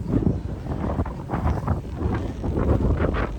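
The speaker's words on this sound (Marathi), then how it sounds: "भरपूर असं वारं सुटलं आहे" Strong wind sweeping across an open farm field, a steady, loud rumbling roar that buffets the microphone in surging gusts throughout, with no voices.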